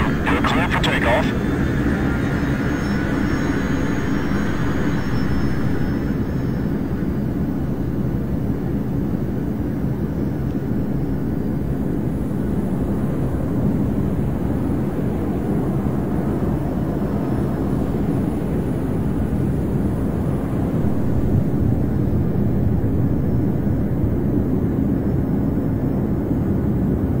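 In the Arma 3 video game, a jet aircraft takes off with a loud, continuous engine roar that holds steady throughout, with radio-style voices talking over it.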